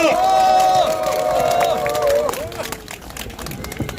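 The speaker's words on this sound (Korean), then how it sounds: "여러분 큰 박수 보내주시기 바랍니다" Press-conference crowd clapping and cheering to welcome a speaker at a hunger-strike relay event, with a loud burst of applause mixed with shouts and voices, tapering off after a couple of seconds.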